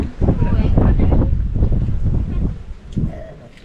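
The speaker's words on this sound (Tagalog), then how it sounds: "Ang hangin." Wind rushes and buffets steadily across the recording, loud and broadband, easing off toward the end.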